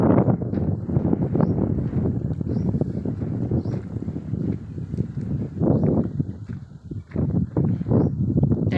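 Strong wind blowing outdoors on a farm near Madhupar village, a loud continuous rushing roar battering the microphone with gusty surges throughout.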